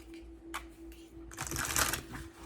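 Tarot cards being shuffled, a few soft riffles early on, then a louder, sustained riffle-and-shuffle burst in the middle, close up, with a steady electrical hum underneath and no talking.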